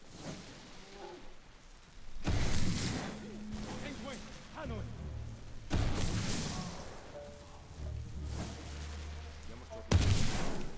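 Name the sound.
bomb explosion in Ghost of Tsushima video game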